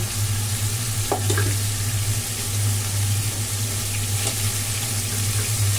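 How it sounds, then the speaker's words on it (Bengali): Steady, even sizzling of fish frying in a hot pan, continuous and close, with a couple of faint clinks partway through. "মাছটা ভাজা হচ্ছে দুই দিকে খেয়াল রাখতে হচ্ছে"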